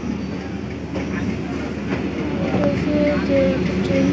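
A goods train with one engine passes near Agartala railway station, a loud continuous rumble with rhythmic clatter of wagons, plus brief squeaky wheel tones toward the end.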